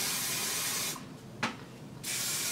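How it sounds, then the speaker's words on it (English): A close hairspray aerosol hisses in a short burst of about a second, with a brief sharp puff partway through, over quiet background. "I'm going to take my hairspray"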